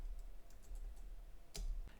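Keys clatter on a computer keyboard as a command is typed: soft, scattered clicks through the first second, then two sharper, louder keystrokes close together near the end, with no talking.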